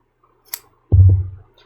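Scissors snip a piece of fabric in half for a quilted cross-body bag, a short close cut with a sharp click followed by a brief heavier chopping thud, with no talk.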